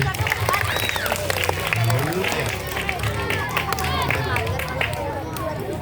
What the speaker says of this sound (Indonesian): Mikael, tepuk tangannya